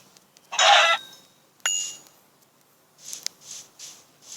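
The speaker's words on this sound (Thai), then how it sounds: "ไก่อยู่นี่" Chicken clucking from a Minecraft Pocket Edition mob: a loud, close burst of clucks, then a sharper short cluck, followed by a few softer, rhythmic clucks.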